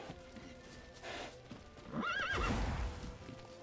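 A horse in The Witcher 3 video game gives a clear neigh, accompanied by snorting and hoof clip-clops. The sound is fairly faint and close, with no talk over it.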